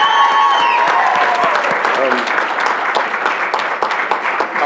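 An audience at a city board of education business meeting applauds a speaker, a loud sustained clapping that fills the room, with a voice briefly audible over it at the start.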